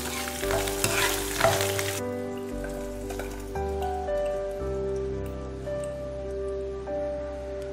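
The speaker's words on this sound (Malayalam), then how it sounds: "വറവ് പച്ചടിക്ക് ചേർക്കാം." A hot tempering poured into rambutan pachadi, a loud burst of crackling sizzle for about two seconds that settles into a gentler hiss beneath steady background music.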